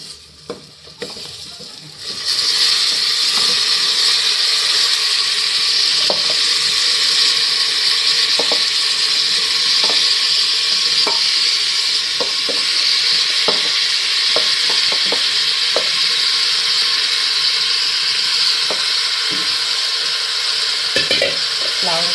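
Cauliflower florets sizzling and frying in a spiced masala over low gas, with a steady loud hiss starting after a brief quiet moment and repeated clinks of the stirring spoon against the pan throughout.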